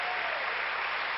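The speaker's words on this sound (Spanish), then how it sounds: "Un aplauso fuerte al Señor." Loud applause from a church congregation during a Sunday service, a thick, even wash of clapping that holds steady throughout.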